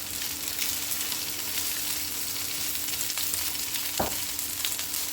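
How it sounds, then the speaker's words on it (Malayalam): Sliced onions, green chillies and curry leaves with a little salt sauté in a pan for a Kerala-style mussel roast, making a loud, steady hiss up close, broken once by a single dull knock. "എന്നിട്ട് ലേശം ഉപ്പും കൂടി ഇട്ടിട്ട് നമുക്കിതൊന്ന് വഴറ്റിയെടുക്കാം"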